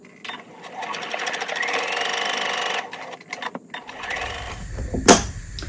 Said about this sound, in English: I'm going to stitch around the outside edge of the apron, back tacking at both ends